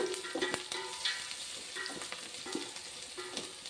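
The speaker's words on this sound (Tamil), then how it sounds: "வெங்காயம் நல்லா வதங்கின பிறகு இன்னும் கொஞ்சம் நேரம் கலர் கொஞ்சம் மாறட்டும்" Onions sizzling steadily in a pan, with occasional clinks and scrapes of a spoon stirring them through a continuous moderate frying hiss.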